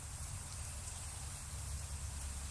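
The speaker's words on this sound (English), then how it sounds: "It's raining right now." Steady outdoor rain hissing continuously, light rather than heavy, with a constant low rumble underneath and no voices.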